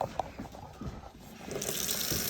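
Water runs from a tap in a steady stream, starting quieter with some splashing and handling, then swelling into a louder, bright gushing flow.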